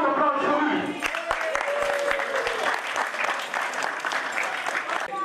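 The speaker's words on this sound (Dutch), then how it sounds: "Kom een applaus voor u." An audience at a local football show claps steadily in a burst of applause, close and fairly loud, with some talk blended in at the start.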